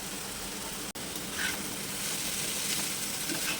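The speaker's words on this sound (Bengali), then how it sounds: "এখন এবার চিকেনগুলো দিয়ে ভালো করে কষিয়ে নেব" Boiled chicken pieces sautéing in a pan of spices give a steady, close sizzle and hiss that carries on throughout with no voice over it, broken only by one brief dropout.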